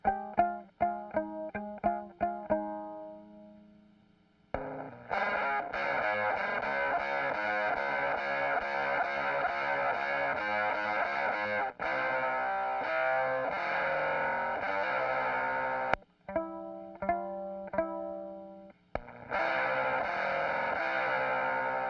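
Bowed violin double stops through a Fender Blender fuzz pedal, heavily distorted and buzzing, play sustained chords with a few short plucked notes and brief pauses between phrases.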